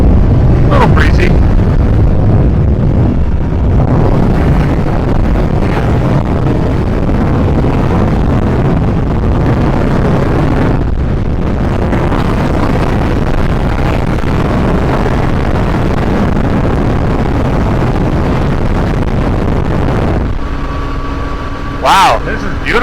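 Loud, steady wind buffeting a microphone outdoors, continuous rumbling gusts for most of the stretch, easing briefly near the end, with no talk over it.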